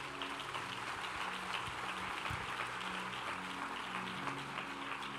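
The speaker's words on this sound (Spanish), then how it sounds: "a quienes hicieron esa oración, les damos todos un aplauso" A church congregation applauding those who led a prayer: a dense, steady wash of many hands clapping together, sustained and fairly distant, filling the room without pause.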